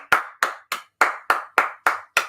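A single person claps hands eight times in a slow, even rhythm, each clap crisp and close with a short ringing decay in a quiet room.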